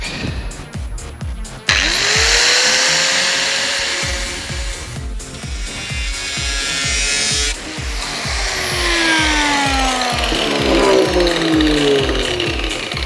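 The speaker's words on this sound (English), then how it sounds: "Unfortunately I can't find my jigsaw, so I have to use a grinder" An angle grinder cutting through a metal plate while repairing an accident-damaged 1983 Kawasaki Z750, a loud continuous high whine with pulsing rhythm and a brief pause midway, close and alone.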